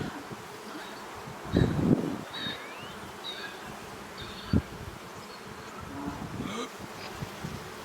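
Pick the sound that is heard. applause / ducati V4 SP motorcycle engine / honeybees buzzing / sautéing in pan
honeybees buzzing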